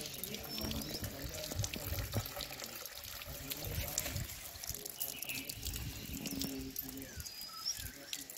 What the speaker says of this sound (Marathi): मी आता इथे हात धुवून घेत आहे